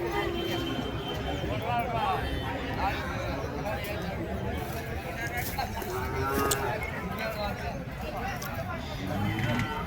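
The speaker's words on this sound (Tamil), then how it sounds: "இங்கே ஒரு ஜோடி நாட்டு பசுமாடுங்க மேற்குத்தியில் சூப்பராக இருக்குது பாருங்க" Native breed cows low repeatedly at a cattle market in Tamil Nadu, several moos rising over a busy background of chatter and someone speaking throughout.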